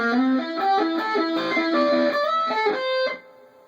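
A distorted electric guitar plays a fast run of notes from a solo, bright and sustained, then stops abruptly and lets the last tone ring out.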